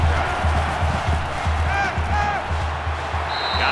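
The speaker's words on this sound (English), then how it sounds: "This crowd can really be intimidating for an opposing team." Stadium crowd noise in a 2020 college football video game simulation of Texas A&M at Alabama: a steady, loud, roaring crowd wash with a low rumble underneath and brief whistle-like tones rising over it.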